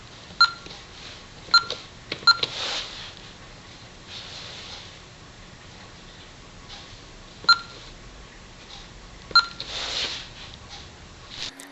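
Short electronic beeps from a Honeywell Vista 20P alarm keypad as it is programmed, coming in scattered single and double chirps with quiet gaps between them and no talking.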